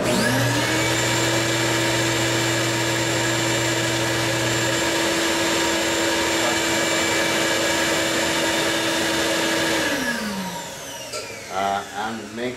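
Machine cutting a Dictaphone wax cylinder, a motorized cutter whining in a steady, loud tone that holds for about ten seconds, then spins down into uneven rumbling and scraping.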